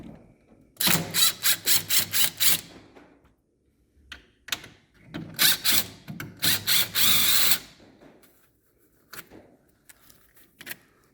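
A patio door handle and lock being worked on by hand, with bursts of rapid ratcheting, clicking mechanism sounds in two main runs and a few scattered clicks after, close and fairly loud, with no talking.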